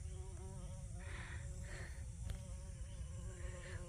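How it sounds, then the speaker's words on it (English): Bumblebees buzz around a home vegetable garden, a faint low steady drone with a few swells as bees pass nearer, heard alone without talk. "I hear the bumblebees"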